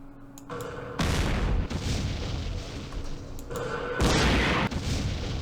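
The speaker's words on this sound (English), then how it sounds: "I do have some mortars here, though. Let's use the heavy weapons against them." Mortar rounds fire in a Vietnam war strategy game set at the Battle of Pleiku in 1968, with two heavy, loud booms, each followed by a rumbling tail, over a low background hum.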